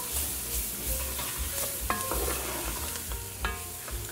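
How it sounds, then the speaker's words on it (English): Minced garlic and halfway-cooked gumbo vegetables sauté in a pot, a steady close sizzle broken by scraping stirs and a few sharper clinks of the utensil, no voices. "When your vegetables are halfway cooked, add in some minced garlic and allow that to cook and soften."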